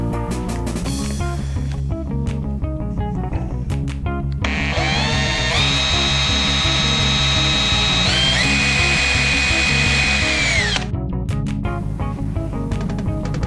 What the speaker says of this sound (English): So now what we're first going to use is a wood bit.